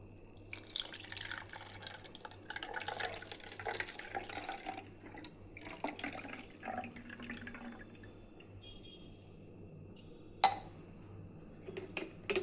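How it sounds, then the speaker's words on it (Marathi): Water trickles and drips through a funnel into a spray bottle in a home kitchen, a quiet, uneven pouring with soft clinks and one sharp tap near the end. "जे आपण ह्याच्यामध्ये हे पाणी सगळं गाळून घेणार आहोत"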